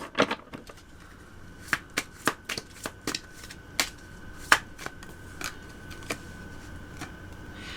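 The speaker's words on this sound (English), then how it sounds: "I'm sucking at shuffling right now, I swear." Tarot cards being shuffled in a quick series of crisp riffling snaps, irregularly spaced, close by with a quiet background.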